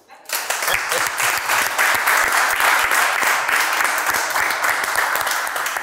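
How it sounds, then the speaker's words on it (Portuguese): An audience at a televised event breaks into sustained, loud applause, steady and dense throughout with crowd noise mixed in. "Mais uma vez, público, um aplauso para você"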